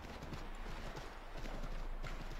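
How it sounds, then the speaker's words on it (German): Horse hooves clip-clop in the Assassin's Creed 3 Remastered video game, a quick, steady run of hoofbeats heard fairly quietly against game background noise. "Das Pferd hupft und bleibt stehen."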